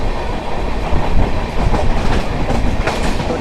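Passenger train on the run from Patna toward Indore, steady rumbling rail noise with rhythmic clickety-clack of wheels over joints, loud and continuous from inside the general coach.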